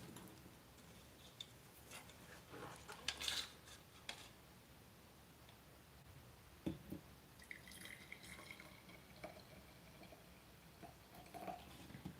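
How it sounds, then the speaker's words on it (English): Aquafaba liquid draining from a jar of chickpeas, heard as quiet, scattered drips and small trickling splashes with irregular liquid ticks over a faint background, and no one talking. "Gonna drain out the aquafaba."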